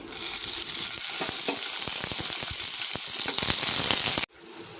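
Five green chillies fry in a little oil in a pan, a busy crackling sizzle with sharp spitting pops that runs loud and steady before cutting off abruptly to a quieter hiss near the end.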